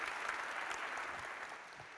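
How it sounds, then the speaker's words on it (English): Conference audience applauding a speaker at a web performance event, a steady, even wash of clapping that fades slightly toward the end. "A massive round of applause, please, for Mark Zeman."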